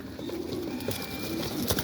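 Domestic pigeons coo softly in a low, repeated burble near a loft, with a steady background hiss and a couple of brief louder bursts.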